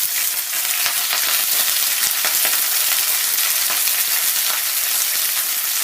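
Swiss chard fries in oil in a pan for a Ramadan stuffed chard pie, giving a steady, close, dense sizzle with scattered small pops and crackles throughout.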